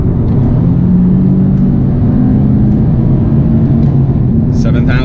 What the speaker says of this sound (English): it's that V6 note, it's the VQ note